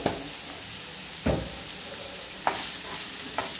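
Onions sizzle gently in a pan with added salt, with a few short scraping stirs of a spoon standing out over the steady low frying hiss; no voices.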